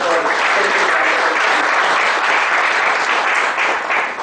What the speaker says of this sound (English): a big round of applause once again for sir.